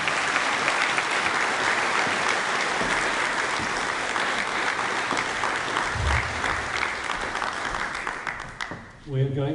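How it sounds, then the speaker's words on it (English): Sustained audience applause at a district conference welcoming Ukraine's ambassador to Denmark onto the stage, dense and loud clapping that holds steady before thinning and fading out near the end. "give them applause."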